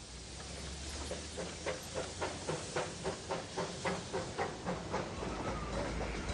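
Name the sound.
train arriving at station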